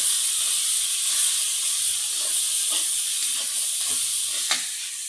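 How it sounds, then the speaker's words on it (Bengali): Eggplant, potato and dried shrimp curry cooks in a pan with a constant loud hiss and sizzle, and a few soft stirring scrapes come through near the end. "এই যে আমি ফুল ফল আলু দিয়ে বেগুন দিয়ে এই শুটকি চিংড়ি দিয়ে রান্না করছি এখন"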